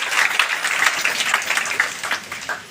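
Audience applauding for great leaders at a business seminar, dense steady clapping from a crowd that holds fairly loud throughout, then begins to thin toward the end.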